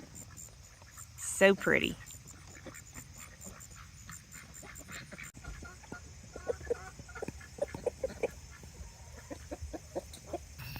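Ducks and chickens in an outdoor livestock run give scattered clucks and quacks at a moderate distance, with a brief louder call near the start and a short spoken remark over a steady background hiss.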